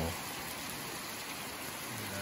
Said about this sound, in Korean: 저렇게 하늘은 맑은데 와 진짜 레전드급 그 폭우가 쏟아졌어요